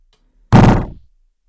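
Redesigned Destiny 2 Nova Warp ability effect from a video game: one sudden, heavy low thump with a crackling burst that slams in and decays over about half a second, close and loud against silence.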